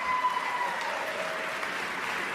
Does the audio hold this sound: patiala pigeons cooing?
no